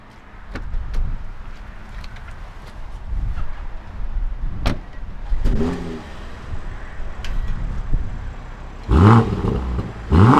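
A BMW M440i sets off: doors and windows shift, then the engine revs up hard in several loud surges with a deep throaty growl, strongest near the end.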